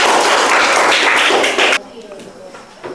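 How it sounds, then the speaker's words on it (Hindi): Loud, dense clapping from a classroom of students for a classmate's answer, held strongly for almost two seconds before cutting off abruptly into quieter room noise with a few stray taps. "निशा कुमारी के अच्छे सोच के लिए और अच्छे आंसर के लिए एक जोरदार ताली"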